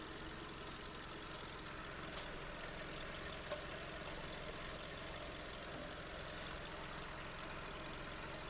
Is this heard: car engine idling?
yes